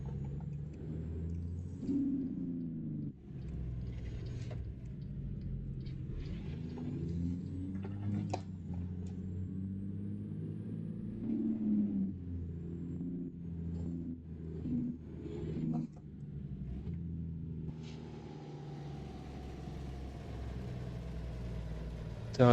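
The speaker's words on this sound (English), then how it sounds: "this jake brake actually sounds really nice on this truck" Peterbilt 350 in American Truck Simulator using its jake brake, a deep, rhythmic engine rumble that rises and falls over about twenty seconds, moderately quiet, with a voice talking at times.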